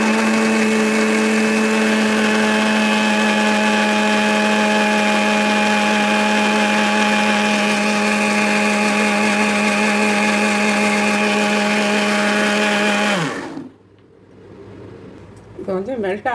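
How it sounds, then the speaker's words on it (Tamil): A mixer grinder whirs steadily as its jar blends plum cake batter ingredients, loud and close with a strong motor hum that runs without a break for about thirteen seconds, then cuts out and spins down, leaving soft background noise. "நிறையா இருக்கிறதுனால நான் வந்து இன்றைக்கி மிக்ஸி ஜாரில் சேர்த்து அரைக்கிறேன்"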